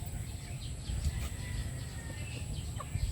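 A young rooster (baby cockerel) clucks and calls softly a few times over steady farmyard background noise, with no talking.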